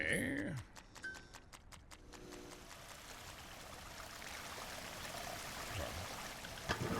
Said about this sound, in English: That's all the water from the big drain running.